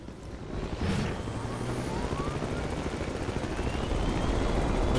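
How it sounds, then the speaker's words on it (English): Close, loud helicopter rotor thrum pulses steadily in a video game on the Dragon Valley map, continuous over a low engine rumble with no talk. "Hopefully I can get in a chopper."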